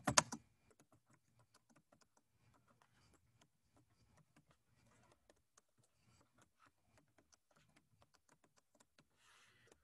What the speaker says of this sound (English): This is a terrible keyboard, or I'm a terrible typist.